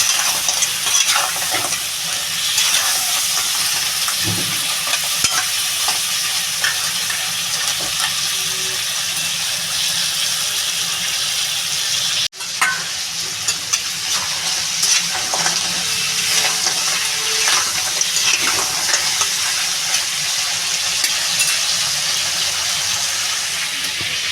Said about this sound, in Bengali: কাঁকড়াটা ভালো করে ভেজে নেবে